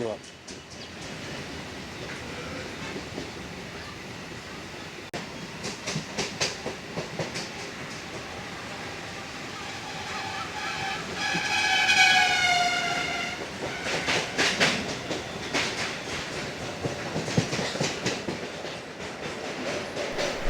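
A Sealdah to Dankuni local train runs on rails near the Vivekananda bridge, with steady rolling rumble and rhythmic clickety-clack, a horn sounding midway, and someone talking over it.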